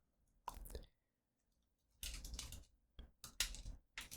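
Keys clacking on a computer keyboard while code is typed, several short bursts of quick taps separated by pauses, close and moderately loud with no talking.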